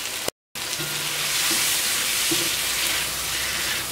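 Ground fennel sizzles steadily in a hot pan while cooking a Kerala-style chicken curry, a dense, even hiss that fills the whole stretch, with a brief silent gap near the start and no talking.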